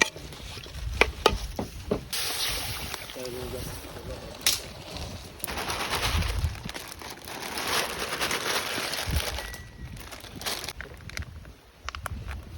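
Pancit canton noodles stir-fried in a pan at a birthday gathering, with scraping stirs, crackling sizzle and clatter rising and falling throughout, while people talk nearby.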